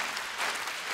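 Audience applauding in a concert hall at a comedy show, a dense, steady wash of clapping hands throughout, fairly loud and close with no voices on top.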